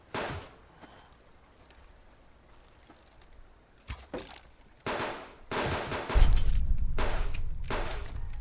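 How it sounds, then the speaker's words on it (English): Gunfire from rogues in the survival video game Subsistence, with scattered single shots followed by a louder, denser burst of rapid fire toward the end, heard without talking. "Being shot at still. It is rogues definitely shooting at me."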